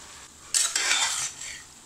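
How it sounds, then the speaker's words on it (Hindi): Meat for Bhopali biryani, already in a pot with ginger-garlic paste, hits hot oil with a sudden loud sizzle, then stirring clatters against the pot as the frying hiss carries on close by. "और अब हम ये गोश्त इसमें डाल के तलेंगे ज़रा।"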